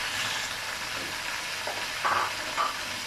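Chopped tomatoes fry with ginger garlic paste and onions in a pan, giving a continuous, close, dense sizzling hiss with soft stirring noises and a couple of brief louder spits.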